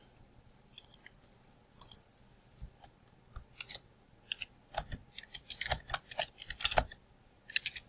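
Typing on a computer keyboard while entering text into an Excel spreadsheet cell, heard as close, irregular clusters of light key clicks with short pauses, busier toward the end.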